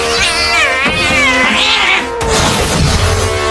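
A cartoon cat character meows repeatedly in loud, close, drawn-out wavering cries, one after another with no talking over them.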